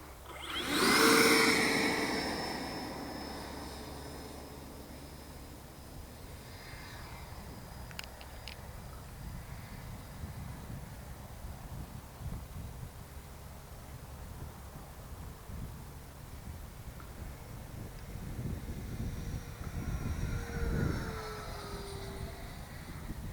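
A FreeWing Stinger 90 RC jet model's engine runs outdoors with a steady whooshing turbine-like roar. A louder surge comes at the start, then the engine holds a sustained drone that swells again toward the end.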